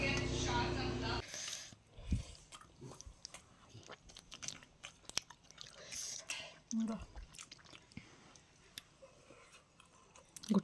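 Two people eating a home meal make soft, close, irregular chewing and biting sounds, with a burst of talk at the start.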